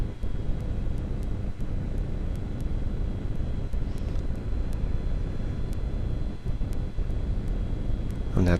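Paramotor landing heard from the pilot's seat, with steady broadband engine and wind rush held at an even level throughout and faint ticking clicks on top.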